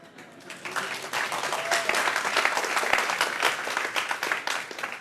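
An audience at a corporate opening event bursts into applause, a dense wash of many hands clapping that swells after a quiet start and holds steady and fairly loud to the end.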